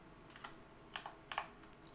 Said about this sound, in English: I use a Corsair K70 keyboard. Not too loud. It has red keys